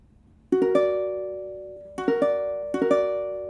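Three quickly rolled piano-like chords, an augmented chord in an ear training quiz, each set of notes entering in a rapid upward spread and ringing out, close and clear after a short quiet lead-in with no speech.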